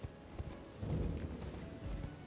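Horse hooves clip-clopping in the video game Elden Ring, a steady rhythmic series of soft thuds at moderate level with a faint background hum, no talk.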